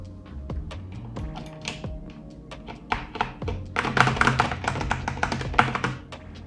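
Metal keycaps being pulled off and pressed onto Cherry MX switches of a mechanical keyboard, heard as a run of close, sharp plastic-and-metal taps and clicks, sparse at first, then a dense rapid clatter of key presses.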